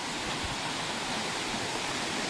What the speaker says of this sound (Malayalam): അവിടെ ഒരു തോടുണ്ട്, വെള്ളം പോകുന്ന സൗണ്ട് കേൾക്കുന്നുണ്ട്.